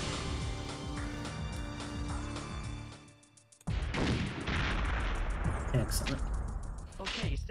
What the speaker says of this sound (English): So we're just gonna keep shooting grenades until they stop spawning.